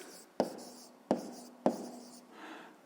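A pen writing a maths answer on paper, heard close and quiet as three sharp taps spaced about half a second apart, each followed by a short scratchy stroke and then a fading scribble.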